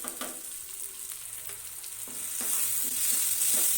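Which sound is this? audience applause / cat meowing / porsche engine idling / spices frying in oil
spices frying in oil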